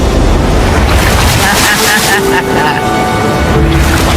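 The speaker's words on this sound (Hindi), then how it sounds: "ओके, ये आई बड़ी लहर।" A big ocean wave rolls in toward a rocky island shore, a loud continuous rush of surf and churning water mixed with heavy wind buffeting the microphone, with voices talking over it.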